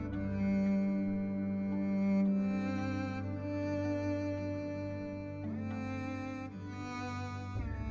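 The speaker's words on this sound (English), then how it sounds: "bow scraping across a string." Sustained bowed-string tones from the Reason Friction physical-modeling synth, with a bow scraping across a string in long, smooth notes that shift pitch every few seconds, steady and clear with no talk.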